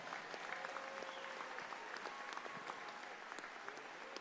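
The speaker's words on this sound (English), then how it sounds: "So let's give them all a big round of applause." Audience applause at a Hall of Fame induction event honoring the 1999 Spurs, a faint, steady patter of many hands clapping heard from a distance without talk.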